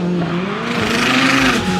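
Audi RS3 and other cars drag racing at a quarter-mile strip, a loud, sustained engine roar with rising tones as the cars accelerate hard down the track, close and continuous throughout.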